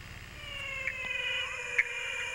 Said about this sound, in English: That sounds like Phylomedusa.